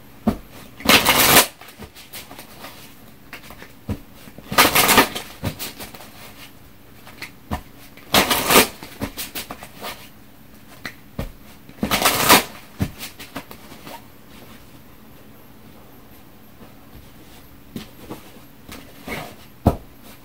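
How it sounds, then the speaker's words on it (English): Tarot-style surrender cards being shuffled in four loud, fast riffling bursts a few seconds apart, with quieter card handling and light taps in between, heard close. "Let me pull a surrender card."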